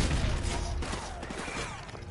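Rapid, overlapping gunfire from Call of Duty Remastered crackles in a dense, continuous burst of game combat noise, loud and busy from start to finish.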